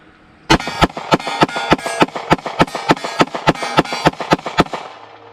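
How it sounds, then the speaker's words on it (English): Rapid string of about fifteen sharp, close pistol shots from a Palmetto State Armory Micro fitted with aluminum baseplates, fired in quick succession as a magazine dump, each crack ringing briefly before the next. "This time we are just going to do a rapid fire dump to make sure that it works here."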